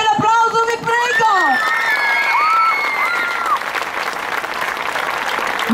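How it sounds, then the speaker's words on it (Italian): Loud audience applause and cheering fill a hall after a couples dance performance at a dance school show, with an announcer's amplified voice speaking over the clapping at the start. "fatelo per me l'applauso, vi prego."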